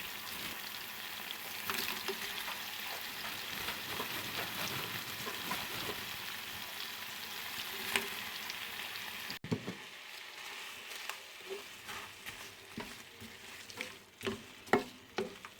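Cut leeks sizzle steadily in a hot pan while a utensil stirs them, with scraping and clicking strokes growing more distinct toward the end; close and continuous, no voices.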